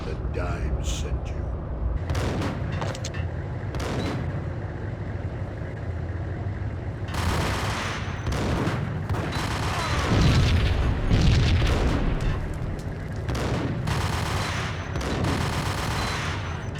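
Repeated gunshots and booming blasts from the 2001 PC shooter Max Payne, loud and close in bursts of several cracks with short pauses, over steady game ambience and talk.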